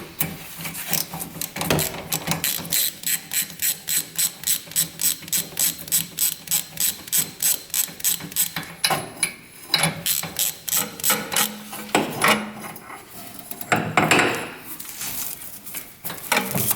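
Ratchet wrench removing a spark plug from the engine of a tracked all-terrain machine, with steady rapid clicking strokes near and clear, then pauses and a few irregular ratchet bursts.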